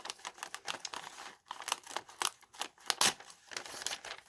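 Paper packaging on an unboxing box being torn open and crinkled, close and busy, with a rapid run of crisp rips, rustles and snips separated by brief pauses.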